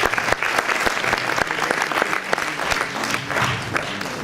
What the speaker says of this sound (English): we can applaud her.